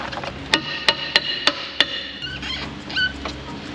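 A hammer strikes the brake drum of a 1985 Land Cruiser five times in a steady rhythm, each hit a sharp metallic clang, followed by quieter clinks and shuffling in the workshop.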